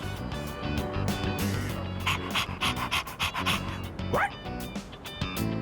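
Dog panting in Persona 3 Reload, a steady run of quick, breathy pants close up, with a short whining rise near the end over faint game background music.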